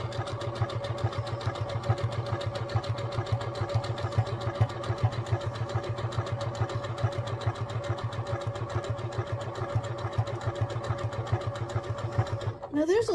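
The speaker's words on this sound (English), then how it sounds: "you just sew, like I said, around all four corners" A sewing machine stitches around the corners of a bandana quilt, its steady motor hum and rapid needle rhythm running continuously and close, with a brief pause near the end and a person talking over it.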